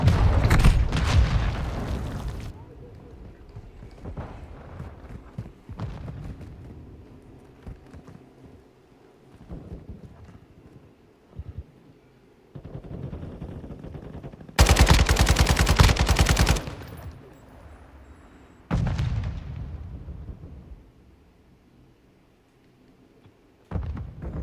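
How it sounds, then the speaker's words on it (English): Cruise missile strikes in Call of Duty Modern Warfare II detonate in heavy booming bursts with rattling gunfire in between, loud and close, several blasts spread apart. "Friendly cruise missile deployed."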